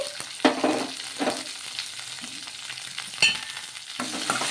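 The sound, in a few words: cumin, garlic and green chilies frying in hot oil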